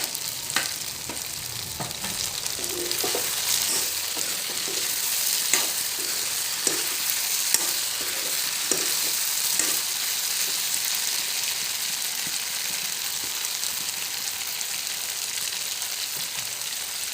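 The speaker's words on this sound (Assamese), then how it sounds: "এই আলুগুটি অলপ অলপ সিজিছে, তেতিয়া মই ইয়াত বিলাহী দি দিম।" Potatoes and tomatoes fry in a pan while being stirred. A continuous close sizzle runs throughout, punctuated by irregular scraping and clinking strokes of the spoon against the pan.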